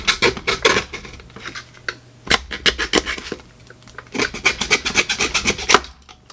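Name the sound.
handsaw cutting a Boomco Halo Brute Spiker blaster part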